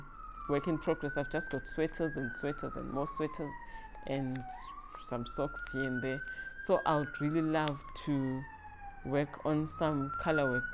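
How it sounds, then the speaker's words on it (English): An emergency siren, ambulance or fire truck, wails in slow rising and falling sweeps as it drives past, steady and moderately loud under someone talking throughout. "I don't know if that's some ambulance or some fire truck that's driving past."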